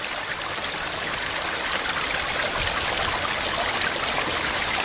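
Stream water flowing steadily at the water's edge in the wilderness, a close, constant rushing and trickling wash with no pauses.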